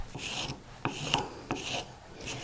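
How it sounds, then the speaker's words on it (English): Polishing paper rubbed over the surface of a metal bezel burnisher, giving dry rasping strokes in an irregular back-and-forth rhythm, close and fairly quiet, with no voices. "I may give the whole surface a nice go over with the polishing paper"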